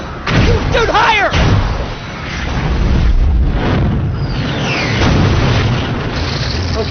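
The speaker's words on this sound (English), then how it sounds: "today we're trying out the new shock blaster from Ratchet and Clank" Live-action recreation of the Ratchet and Clank shock blaster firing, with booming blasts, thuds and whooshing energy effects, loud and close, while voices shout over them.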